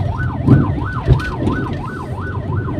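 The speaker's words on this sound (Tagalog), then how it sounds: "may ambulance sa likod, tabi natin yun, sa likod oh" An ambulance siren wails close behind a car on a city avenue, its rising and falling tone repeating steadily, with brief thumps of traffic noise underneath.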